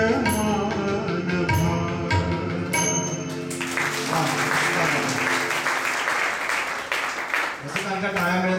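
Music from a devotional and light-classical song performance at a 2015 Ganapati festival gives way to a loud, sustained wave of audience clapping that fills the rest of the moment.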